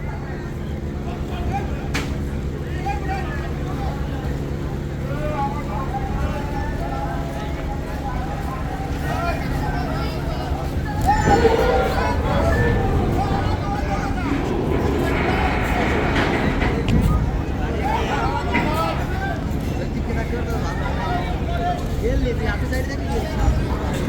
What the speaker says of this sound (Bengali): লঞ্চটি কিন্তু ক্রমশ এই টার্মিনালের দিকে এগিয়ে আসছে